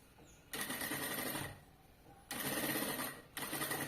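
Sewing machine running in two sustained bursts as it stitches the end of a backpack seam, with a short pause between them; close and fairly loud, no speech.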